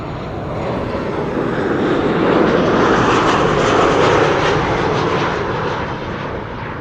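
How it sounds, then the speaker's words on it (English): A KLM Boeing 737 airliner arriving from Geneva roars past, its broadband jet noise swelling steadily to a peak mid-pass, then slowly fading, heard alone without voices. "A 737 arriving from Geneva."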